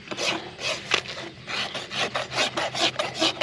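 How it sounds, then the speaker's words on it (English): A farrier rasps down the wall of a fast-growing horse hoof during a maintenance trim, a close, steady series of about a dozen scraping strokes in a regular back-and-forth rhythm, with no talking. "now that I've kind of rasped that wall down and balanced everything"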